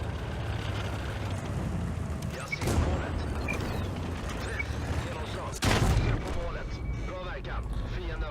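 Tank cannons fire in the World of Tanks video game: two loud, sharp blasts a few seconds apart stand out over a continuous mechanical rumble and clanking.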